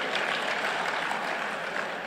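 Applause from an audience at a formal alumni association gathering in Indonesia, a steady broadband clapping wash lasting about two seconds with no voices over it.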